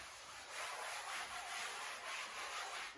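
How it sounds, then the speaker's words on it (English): A sponge is rubbed over the background of an acrylic painting, giving a soft, steady scrubbing hiss in rhythmic strokes, close but quiet, with no talking. "Then I'm just going to rub the sponge over the background and just get a nice amount of lubrication on the background."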